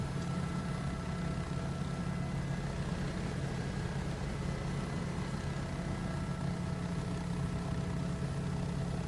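Bell 407 helicopter engine running steadily in the X-Plane 12 flight simulator, a constant turbine whine and droning hum that holds an even level with no talking.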